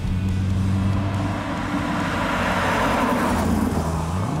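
A 1969 Chevrolet Camaro SS 427 Pro-Touring muscle car driving, its engine a steady loud rumble with a rising tone near the end, no voices.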